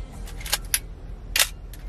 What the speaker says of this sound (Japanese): シャッター音も非常に、いいものになりますね。